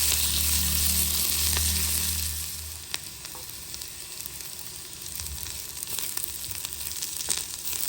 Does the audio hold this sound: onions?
yes